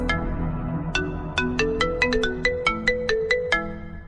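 A phone ringtone plays a bright, repeating melody of quick electronic notes, loud and close, with no voices.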